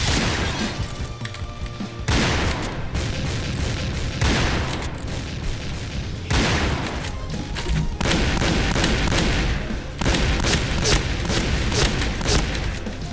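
Gunfire and explosions from a clan-war shooter video game: repeated loud bursts and booms in clusters, with rapid shots between blasts, continuous throughout.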